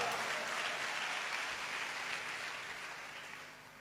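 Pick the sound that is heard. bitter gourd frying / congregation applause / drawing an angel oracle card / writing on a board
congregation applause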